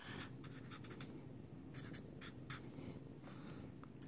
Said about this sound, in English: Looks funky with a fat Sharpie.